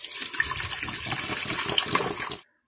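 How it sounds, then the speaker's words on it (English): Water is poured steadily into the reservoir of a programmable 14-cup coffee maker, a close, bubbling gush that runs unbroken and then stops abruptly. "And we're going to pour that water in there."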